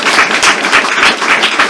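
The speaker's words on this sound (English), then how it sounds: "let's give another round of applause to that" Audience applause for the actors after a staged reading performance, a steady wash of many hands clapping, fairly loud and continuous throughout.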